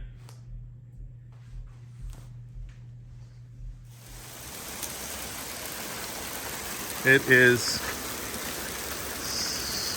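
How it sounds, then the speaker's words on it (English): Hail falls outdoors behind the scenes at the Mint 400 off-road race, a hissing patter that starts partway through and continues steadily, with a brief metallic clatter. Someone speaks briefly beforehand. "It's hail. It's pretty much hail."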